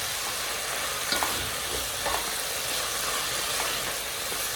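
Crispy chilli beef stir fry is mixed with sauce in a hot pan, a dense steady sizzle and hiss with faint, occasional stirring scrapes underneath.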